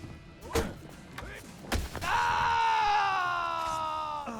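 A For Honor character lets out a ledge scream: a few dull thumps come first, then a loud, sustained, strained cry that holds steadily to the end.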